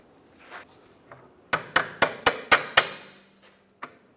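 Sharp metallic hammer taps on a bolt in a BMW X3 rear lateral link, six quick evenly spaced strikes close by, followed by one last lighter tap after a short pause.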